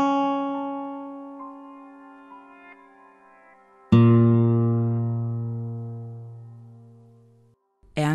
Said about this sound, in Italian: Toccando una corda su un determinato tasto viene riprodotto il suono corrispondente.